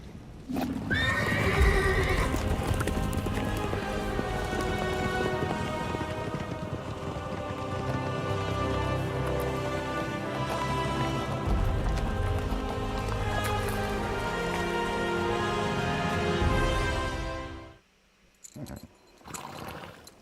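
A horse gallops and whinnies in the video game Prince of Persia The Lost Crown, with loud clip-clop hoofbeats running under a neigh and layered game sound, cutting off abruptly near the end.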